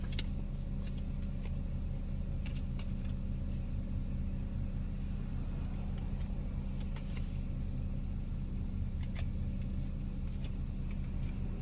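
A vehicle engine rumbles steadily nearby with a constant low drone, occasional clicks and light noises over it.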